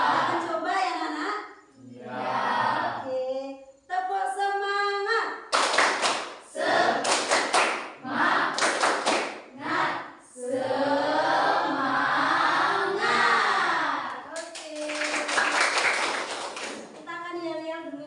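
Schoolchildren in an Indonesian classroom perform a rhythmic spirit-clapping cheer, bursts of sharp patterned claps alternating with chanted young voices, loud and close.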